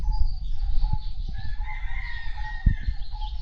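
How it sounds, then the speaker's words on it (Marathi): Birds call out in cloudy, rainy weather, with a rooster crowing and hens clucking nearby over low rumbling background noise. "पावसामुळे पक्षी पण जास्तच ओरडायला लागले मला वाटतं"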